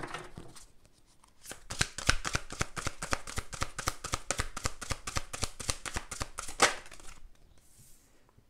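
Tarot cards are shuffled by hand in a quick, even run of crisp riffling flicks lasting several seconds, close and fairly soft, with a few scattered taps before and after and no talking.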